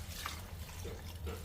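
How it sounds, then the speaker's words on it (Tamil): About a glass of water is poured into chicken gravy in a cooking pot, a short, soft splashing trickle heard quietly and alone. "கொஞ்சமாக ஒரு கிளாஸ் அளவு மட்டும் தண்ணி சேர்த்துக்கிறேன்."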